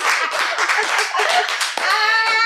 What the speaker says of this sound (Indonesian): Kita tepuk tangan dulu untuk Besan